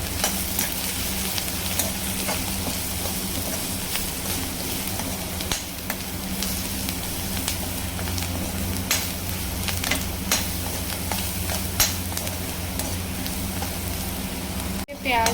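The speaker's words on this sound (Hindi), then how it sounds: "प्याज अच्छी तरह से भून गए हैं" Onions fry in a pan with salt, turmeric and red chili powder for a ridge gourd sabzi, a steady close sizzle broken by scattered scraping taps of a spoon stirring, with a low hum underneath throughout.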